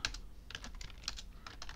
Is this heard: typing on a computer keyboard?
yes